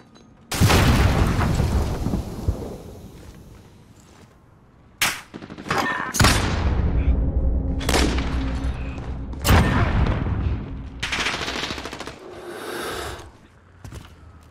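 Sniper rifle shots in a 12v12 search and destroy first-person shooter match: several loud, sharp cracks with booming tails, spaced irregularly amid other game gunfire and explosions.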